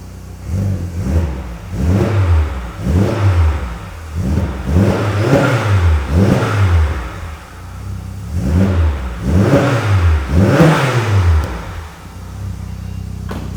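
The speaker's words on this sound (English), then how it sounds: "Let's have a listen to this GSI" An old-school Vauxhall Zafira GSI revs repeatedly through its exhaust, about a dozen sharp rising-and-falling blips in quick succession, loud and close with no talking over it.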